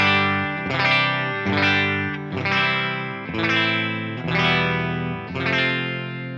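An electric guitar plays through a Line 6 Helix modeler set to the Archetype Clean amp model, with six strummed chords ringing out in an even rhythm, each sustaining and fading before the next, with a shimmering chorus-like tone and no talking.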